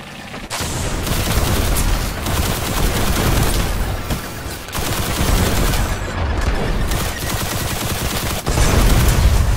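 Dense, continuous bursts of gunfire and booming explosions in the video game Destiny, loud and chaotic, with short pauses between volleys.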